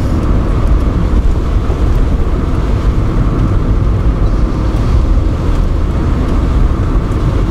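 An Opel Kadett D driving on a slushy winter road, a loud continuous low engine and tyre rumble with wet road noise, steady throughout and with no talking.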